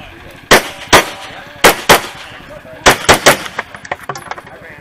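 Pistol shots on a USPSA Carry Optics shooting stage, sharp loud cracks fired in pairs and quick strings, with a faster run of fainter shots trailing off at the end.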